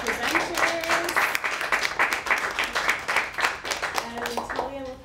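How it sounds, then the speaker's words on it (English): Audience clapping for the presenters at the close of an activist panel event, moderately loud and steady for several seconds, with voices audible over the applause. "maybe if we can have a big round of applause for the presenters"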